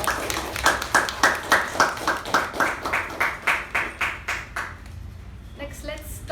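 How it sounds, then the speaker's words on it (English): A small meeting group gives a round of applause for evaluators and speakers, a few hands clapping in an uneven rhythm that tapers off after several seconds. "Please give them a huge round of applause"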